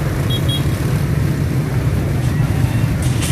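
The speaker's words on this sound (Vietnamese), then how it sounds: "Đó là xe cộ qua lại" Steady roar of vehicles streaming along a busy city street, a dense continuous rumble of engines and tyres at close range with no single pass standing out.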